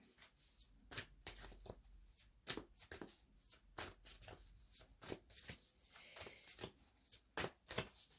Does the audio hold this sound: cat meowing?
no